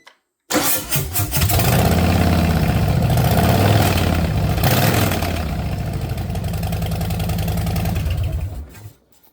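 A Harley-Davidson M8 Fat Boy 114 with Vance & Hines Twin Slash slip-on exhaust cranks and fires, then settles into a loud, close, lumpy V-twin idle with a blip before it shuts off.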